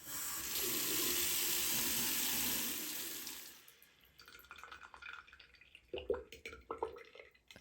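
An open household faucet gushes steadily as pipes are drained for plumbing work on a water-powered backup sump pump. The rushing stream stops after about three and a half seconds, leaving scattered drips and small knocks.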